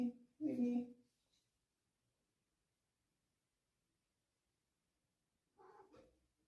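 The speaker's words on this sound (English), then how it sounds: "Here comes Mimi, a cat that is sleeping with me every night." A pet cat meows twice at close range in a quiet room, a longer vocal call at the start followed by a short, fainter one near the end, with silence in between.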